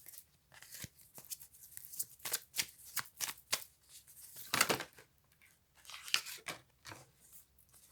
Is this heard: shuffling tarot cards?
yes